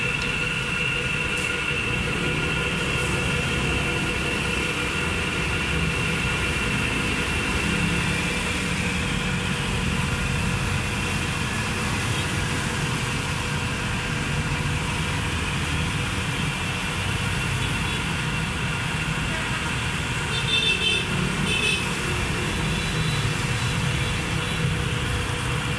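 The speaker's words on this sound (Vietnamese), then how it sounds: "Bây giờ mình bật thử cho anh em xem cái máy chạy." A Kitagawa KDF-420 automatic bench drill running under inverter speed control gives off a continuous, steady mechanical whine and motor hum that stays at a constant level throughout, with faint clicks near the end.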